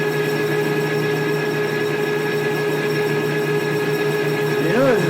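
A metal lathe runs steadily in a workshop during a custom rear differential build for a GM A-Body, giving a constant tonal whine and hum with a brief wavering pitch swoop near the end.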